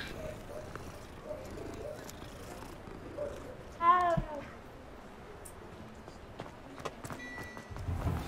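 A cat in Hogwarts Legacy lets out a single short meow midway, standing out against faint background ambience and small scattered noises.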